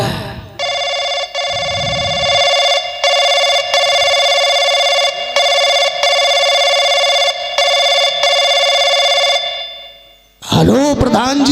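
A telephone rings on a village stage during a folk theatre performance, a loud steady electronic ring tone in repeated bursts with brief gaps, then a voice cuts in at the end.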